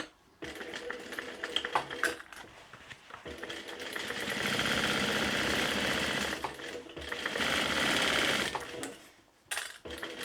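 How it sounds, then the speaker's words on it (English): Sewing machine stitching a seam on a tote bag, running in bursts of rapid mechanical chatter that speed up and pause, close and clear with brief quiet gaps between runs. "And again, sew down that seam with the same seam allowance."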